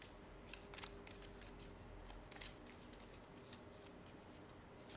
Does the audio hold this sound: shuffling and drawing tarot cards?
yes